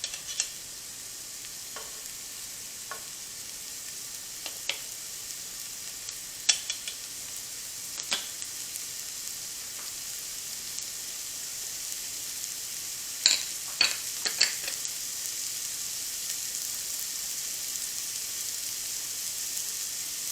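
Meat fries in an adjustable-temperature pot for gluten-free chili, a quiet, steady sizzle broken by occasional sharp scrapes and clinks of stirring.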